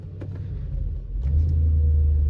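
A Mercedes E55 AMG engine idles in gear while held on the brake, a steady, close, low rumble that swells slightly toward the end with faint mechanical ticks above it.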